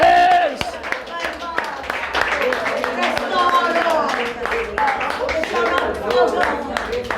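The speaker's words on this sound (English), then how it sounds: "Receive it as you clap your hands." A church congregation clapping their hands, a steady run of sharp claps carried under a singing or preaching voice with music, close and fairly loud throughout.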